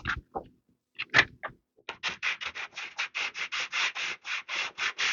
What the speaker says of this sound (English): I go in and I sand them, level them off nice